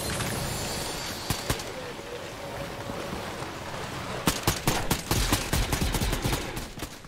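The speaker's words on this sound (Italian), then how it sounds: "Già stanno sparando." Fortnite gunfire: a couple of sharp isolated shots early, then a rapid burst of loud cracks near the end over a steady game ambience, with some speech present.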